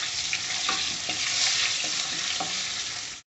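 Chillies and crushed garlic fry in hot oil for a tomato thokku, a loud, continuous close sizzle punctuated by several stirring scrapes at a loose rhythm.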